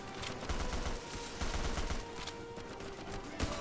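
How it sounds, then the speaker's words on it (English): Dense battlefield gunfire rattles through a WW2 beach assault in the sandbox shooter Easy Red 2, steady overlapping rifle and machine-gun bursts at mid distance with heavier thumps now and then. "Put some rounds down there."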